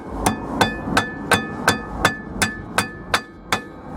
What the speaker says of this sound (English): and then you take your hammer and